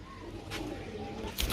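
Low, soft pigeon cooing close by, brief and murmuring, ending in a short muffled bump.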